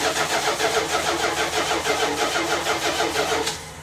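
A car engine cold-starts at 30 degrees and settles into a loud, steady, pulsing run up close, easing off near the end.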